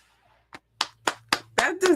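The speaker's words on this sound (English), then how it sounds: "That deserves some celebration and applause for your leadership and for the victory" A few people clapping on a podcast, about six separate sharp claps in an uneven, slowing-then-quickening rhythm, close and dry, with a voice speaking softly underneath toward the end.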